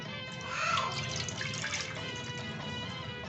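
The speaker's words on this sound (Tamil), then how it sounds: "நம்ம கரைச்சி வச்சுருக்க க கருப்பு கவுனி அரிசி மாவு கரைசலை இதில் ஊற்றிடலாம்" Black kavuni rice flour batter pours into a pan for halwa, a soft continuous liquid swish and trickle, fairly quiet and close, with no talking.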